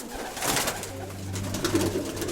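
Pigeon cooing close by, a low steady rolling coo repeated over a couple of seconds with faint background bird sounds and no talking.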